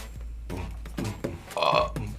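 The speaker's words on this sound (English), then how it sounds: "Especially when I use my burping superpower" A man lets out a drawn-out, voiced burp with several croaky pulses rising to a louder, resonant peak near the end, close and fairly loud.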